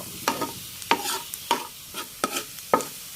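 Pork frying in oil with flour and a mix of Thai and Chinese garlic, with a soft sizzle punctuated by five evenly spaced scraping stirs, close and without speech.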